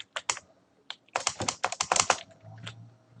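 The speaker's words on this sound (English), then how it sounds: "sorry if you can hear my keyboard" Computer keyboard typing: quick bursts of crisp, close key clicks, a few separate taps and then a rapid run of keystrokes, alone without speech.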